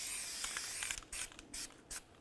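Short hissing bursts of copper anti-seize spray coat the brake mating surfaces of a 1999-2013 Chevy Silverado rear hub during parking brake shoe replacement, several quick blasts in a row close to the mic, with no talking.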